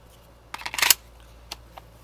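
Pistol drawn from a Safariland ALS locking holster: a short burst of scraping, clicking friction as the retention releases and the gun clears, followed by a couple of faint isolated clicks, close and quiet.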